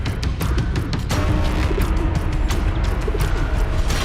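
Pigeons coo inside a Himalayan cave, their low cooing repeating over a steady, rushing background roar with faint chirps.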